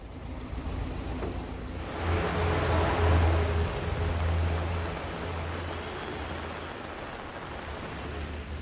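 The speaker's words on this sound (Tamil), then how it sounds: "கொடைக்கானலில் 1 மணி நேரத்திற்கும் மேலாக மிதமான மழை" Moderate rain falls steadily in Kodaikanal, a dense continuous hiss on surfaces that swells briefly in the middle, with a low rumble like a passing vehicle beneath it.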